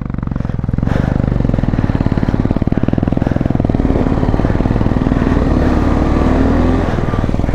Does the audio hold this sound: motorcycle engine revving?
yes